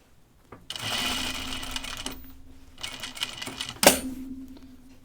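Sewing machine stitching the shoulder seam of a pajama top, sewing over perpendicular pins in a steady whirring run for a few seconds. The run slows and stops, and a sharp click follows near the end.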